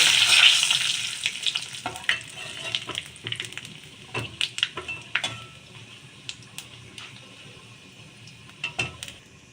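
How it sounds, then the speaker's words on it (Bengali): Chillies fry in hot oil with a steady sizzle and scattered crackles and pops, with occasional stirring clicks in the pan. No one speaks. "ভালো করে একটু ভেজে নেব।"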